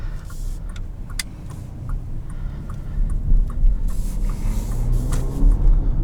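A 2018 Bentley Bentayga W12 produces a deep, steady engine rumble and road roar while driving, heard from inside the cabin, rising slightly in the second half, with faint ticks above it.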